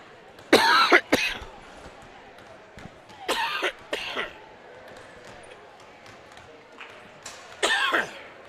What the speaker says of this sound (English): I apologize for the coughs.